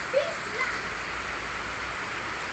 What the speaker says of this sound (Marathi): पाऊस पण खूप छान झालेला आहे